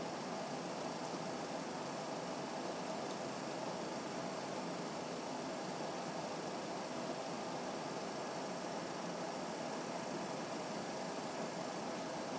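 Boeing 737 full-flight simulator engines roaring in reverse thrust after touchdown, a steady broadband rumble and hiss holding constant throughout, no voices.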